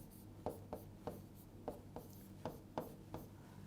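A pen scratches across paper in a quiet room, about nine short separate strokes tapping and scraping at an irregular pace, close and soft with no voice over them.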